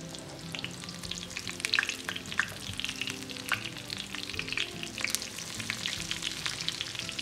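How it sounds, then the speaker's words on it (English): Crab cake sliders frying in a pan just after flipping, a steady close sizzle with scattered crackles and pops throughout and no talking. "Then I will flip it and we'll cook it for about 2 minutes on the other side."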